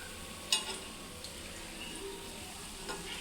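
Food frying slowly in groundnut oil in a thick-bottomed pan, a soft steady sizzle with a few light clinks of stirring, close and quiet throughout.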